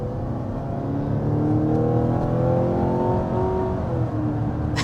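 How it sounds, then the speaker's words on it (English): A 2024 Mazda CX-90 plug-in hybrid's four-cylinder engine hums and revs smoothly from inside the cabin, its pitch climbing and settling in a steady, droning note. "that's not what I'd expect a four-cylinder to sound like"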